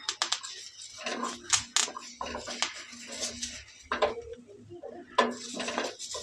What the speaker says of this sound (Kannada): ಇವಾಗ ಟೊಮೆಟೊನ ಹಾಕ್ತೀನಿ ನೋಡಿ